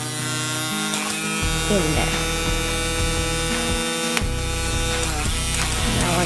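A DIY CNC machine's spindle runs while the machine zeros, giving a loud electric whine and buzzing hum whose pitch steps and shifts as the bit moves, with brief talk over it.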